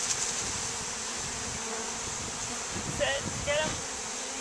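Honeybees swarm and buzz densely around a hive during installation, a continuous close hum with faint voices briefly under it.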